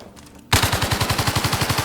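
An L-85 rifle in the Zero Caliber video game fires rapid automatic bursts after a brief quiet start, about twenty evenly spaced, loud, close shots in a steady rhythm with no talk.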